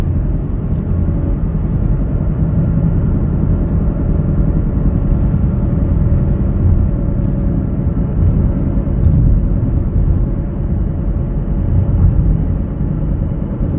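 A 2019 Chevrolet Equinox LT cruising at about 60 mph, heard from inside as a steady, loud low rumble of road and engine noise without pause.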